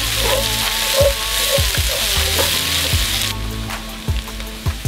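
Celery and green onions, the trinity base for crawfish jambalaya, sizzle steadily in hot oil with a broad frying hiss, punctuated by occasional knocks and scrapes of a spoon against the pot.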